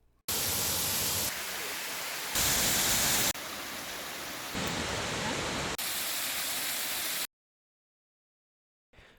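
Steady broadband roar of a waterfall on the Falling Water Trail in Beaver Valley, loud and close, its level shifting in several abrupt steps before cutting to silence near the end.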